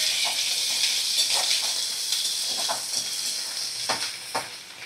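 Fish pieces with salt and ginger garlic paste are stirred in a hot pan, giving a bright, continuous sizzle broken by repeated short scraping strokes.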